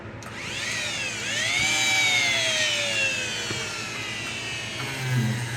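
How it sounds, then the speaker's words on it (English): A Dremel rotary tool whines up to a high, steady spin as it cleans up a part from a Gallagher M300 fence charger, pitch dipping briefly under load then holding, loud and close with no talking. "Let's get the Dremel tool out."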